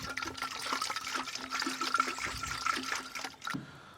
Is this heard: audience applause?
no